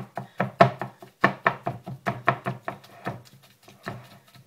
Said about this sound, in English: now we're just going to start mushing the minced meat